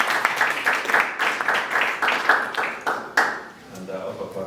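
A room of attendees at a conference session gives a round of applause. The clapping is brisk and fairly close, with a separate clap standing out at times. It thins and fades near the end.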